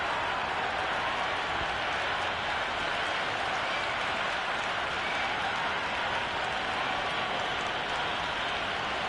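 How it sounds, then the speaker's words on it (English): Loud, steady crowd roar in a cricket video game, Cricket 26, Australia against England, with broadband cheering and scattered clapping sustained evenly throughout as the match is about to begin. "already the crowd making a hell of a racket"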